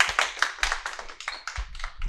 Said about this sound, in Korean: 박수로 와주십시오.